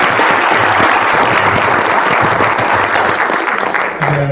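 Audience applause after a lightning talk at a data visualization meetup, loud and dense clapping from a room of listeners that holds steady, then starts to fade near the end.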